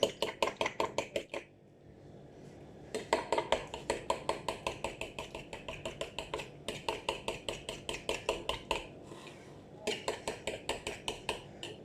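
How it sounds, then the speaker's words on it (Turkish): Two eggs being whisked for an omelette in a bowl, a rapid steady run of sharp clicking beats close by, broken by two brief pauses, with no talk over it. "Şöyle çırpıyorum."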